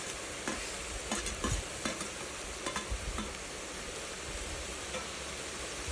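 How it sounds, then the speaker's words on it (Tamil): Cabbage, capsicum and carrot frying in a pan for veg macaroni pasta, a steady sizzle broken by a series of spatula scrapes and stirring knocks, close and moderately loud. "இப்போ 3 வெஜிடபிள்ஸுமே நல்லா ஃப்ரை பண்ணிக்கோங்க."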